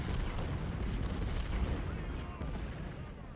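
Artillery in the Civil War strategy game Ultimate General: Civil War sounds as a dense, continuous low rumble of cannon fire with distant booms rolling together, steady and heavy throughout.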